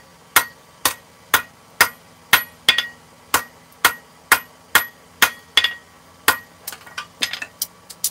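Hot steel is hammered on an anvil while forging grill tools, a steady series of sharp ringing blows about twice a second, turning quicker and lighter near the end.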